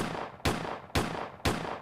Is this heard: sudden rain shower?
no